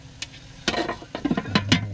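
Food sizzles softly in olive oil in a pan while making chicken burritos in an RV, with intermittent clatters and scrapes of stirring breaking through the quiet frying.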